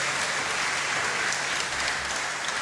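An audience at a hackathon event breaks into a dense, loud round of applause, steady clapping that fills the whole stretch without any voices over it.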